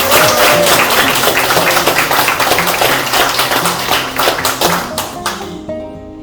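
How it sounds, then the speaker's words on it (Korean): An audience at a lecture on marriage and childbirth claps hard and fast in a loud, crisp burst that thins out and fades toward the end. "박수 한번 더블로 쳐주세요"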